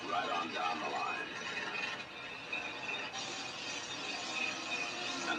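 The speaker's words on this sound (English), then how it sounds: "Where powerful, lightweight air impact wrenches pass every durability test right on down the line." A lightweight, powerful Black & Decker air-powered impact wrench in an advertisement, working on a production line, gives a steady, dense mechanical rattle and whir that runs unbroken for several seconds.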